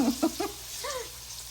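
Cinnamon roll donuts frying in a pan of oil, a soft continuous sizzle with faint bubbling, quiet and close, with brief vocal sounds over it.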